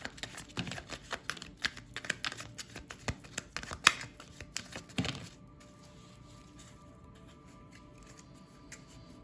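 Tarot cards being shuffled: a rapid run of crisp riffling and slapping card sounds for about five seconds, close and fairly quiet, then only faint room hiss with no talk.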